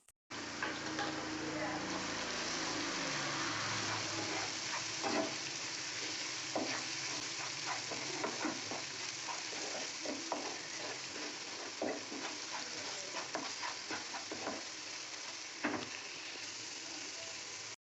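Continuous sizzling of a frying egg pepper gravy with spices being stirred in, spoon scrapes ticking steadily close by, with occasional speech over it.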